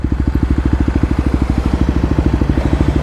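A Kawasaki KLX250 dirt bike with a 13-tooth rear sprocket runs nearby, its engine beating out a loud, rapid, even thumping pulse that holds steady throughout.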